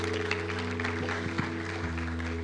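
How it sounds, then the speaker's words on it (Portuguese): A congregation gives steady applause at a church gathering, with a dense, even wash of clapping over a constant low hum throughout. "Salve de palmas para o Lucas."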